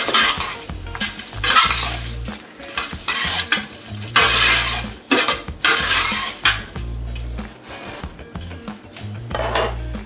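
A spoon stirs parsley, oregano and other seasonings together in a bowl for beef stew, giving repeated close scraping and clinking strokes in uneven bursts, with a low hum underneath.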